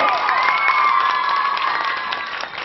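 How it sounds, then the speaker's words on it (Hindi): An audience at a school award ceremony and cultural programme at a middle school in Muzaffarpur claps with cheering and shouting, a dense, lively burst that holds steady then tapers slightly at the end. "तालियां भाई जोरदार बनती हैं, जोरदार ताली"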